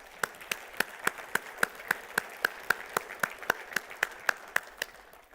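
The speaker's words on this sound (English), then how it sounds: "Can we clap for him and thank him?" A church congregation claps in a steady, evenly spaced rhythm of sharp hand claps, a single unified beat rather than a scattered ovation, moderately close with a faint room wash between claps.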